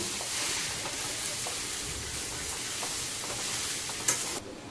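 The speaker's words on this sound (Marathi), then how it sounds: "आता हे सर्व बटाटे टाकलेले आहेत, आपण पूर्ण असे काढून घेऊया आणि चांगले परतून घेऊया" Potatoes sautéed in a pan for aloo paratha filling, a continuous close sizzle and hiss with soft stirring scrapes that cuts off abruptly near the end.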